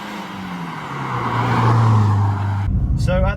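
A Mercedes CLK 230k driving sideways on a damp road, a loud engine note rising in pitch as it revs and slides, then cutting off abruptly into a different burst of sound.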